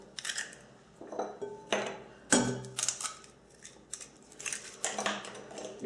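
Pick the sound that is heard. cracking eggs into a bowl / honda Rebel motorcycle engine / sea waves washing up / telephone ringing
cracking eggs into a bowl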